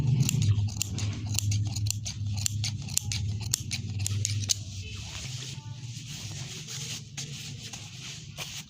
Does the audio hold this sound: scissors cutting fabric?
yes